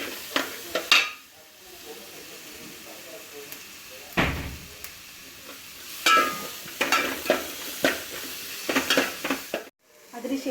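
Green chillies sautéing for a Kerala-style crab curry, with a steady frying hiss, spatula scrapes and clatter against the pan, and a few knocks and clinks in bursts, with a short silence near the end.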